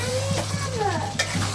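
Meat and new potatoes being stirred and sautéed in a pot, with scraping spoon strokes over a constant close sizzle, brief and busy, no talking.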